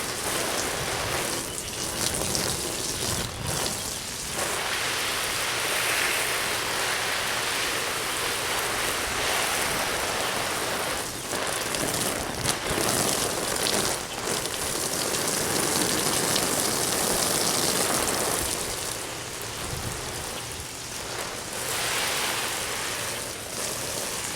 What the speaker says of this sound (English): So let's give this a rain test.